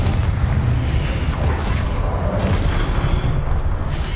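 Booming explosion from the Confringo blasting spell in Hogwarts Legacy, played on PS5: a continuous, loud, low rumbling blast that stays dense and heavy throughout with no pauses.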